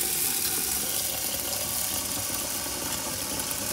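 Tap water runs steadily into a pot while rice is washed for Asian steamed rice, a continuous broadband rush with a low hum underneath and no talking.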